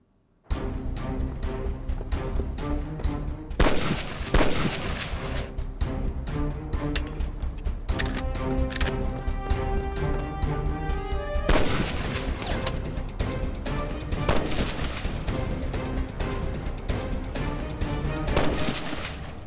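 Repeated sharp gunshots at a shooting range target, loud and continuous with dense overlapping bangs and booms and no talk.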